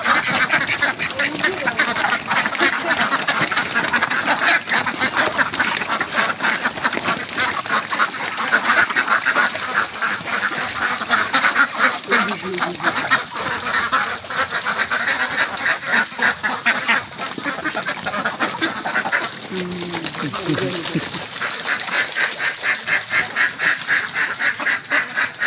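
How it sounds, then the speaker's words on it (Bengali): Chinese ducks at a village duck farm give a dense, continuous chorus of overlapping quacks close by, with faint voices of people now and then underneath. "এগুলো হলো চীনা হাঁস।"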